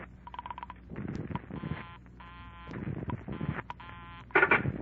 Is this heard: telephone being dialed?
yes